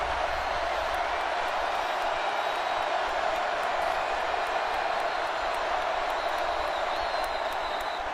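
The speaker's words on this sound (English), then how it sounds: "Listen to this crowd." A football stadium crowd at a Georgia Bulldogs versus South Carolina Gamecocks game in overtime roars as a dense, steady wash of cheering and noise, constant and fairly loud throughout, with faint voices mixed in.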